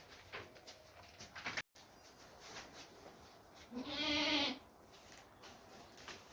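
A farm goat in heat gives a single clear bleat midway, set against quiet outdoor background noise.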